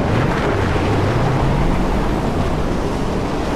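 A sandstorm in the Mad Max video game, a loud, unbroken roar of wind and blowing grit with a low, wavering rumble beneath and no talk.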